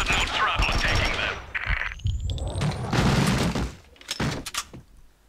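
Rapid gunfire bursts and heavy impacts from the Max Payne 2 video game, dual Beretta pistols firing in loud, dense volleys broken by short pauses, with booms and crashing debris; a voice speaks briefly between shots.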